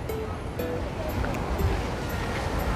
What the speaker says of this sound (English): The sea is too rough at the moment. I think it's because it's windy and it's high tide.